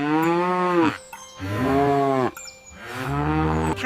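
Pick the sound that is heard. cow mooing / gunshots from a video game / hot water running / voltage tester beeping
cow mooing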